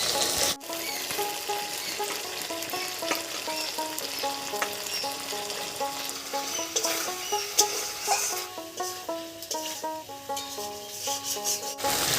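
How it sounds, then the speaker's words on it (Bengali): Fried potatoes cooking in spice paste with a little sugar for a raw papaya dhoka curry make a low, gritty frying and rubbing sound, mostly buried under steady background music. "মশলার সঙ্গে আলুকেও খুব ভালো করে কষিয়ে নিয়েছি।"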